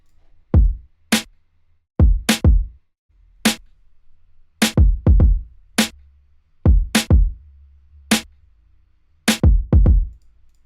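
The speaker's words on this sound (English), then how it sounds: "I layered 2 kicks" A punchy beat of two layered kick drums, one classic and organic, repeats in a steady 2000s style pattern with sharp high clicks between hits, tight and dry with nothing else playing.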